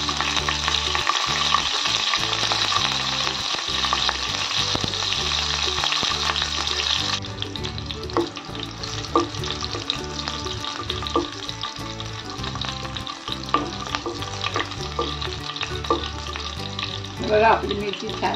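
Cumin and green chillies fry in hot oil, a loud, steady crackling sizzle close by that eases partway through and continues with small pops and occasional utensil clinks, no talk.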